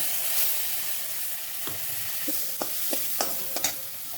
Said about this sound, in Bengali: তো মশলাটা 5 মিনিট কষে নেব।